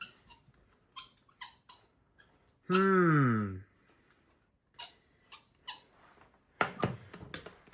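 A squeaky small shaded-pole motor on a 6-inch fan gives one rising, wavering squeal lasting about a second, set among soft clicks and light handling noises.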